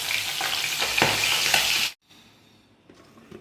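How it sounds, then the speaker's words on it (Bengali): Fish fries in hot oil in a wok, giving a loud, dense sizzle for about two seconds before it cuts off abruptly to near quiet with faint background noise. "আর এদিকে মাছ ভাজা হচ্ছে"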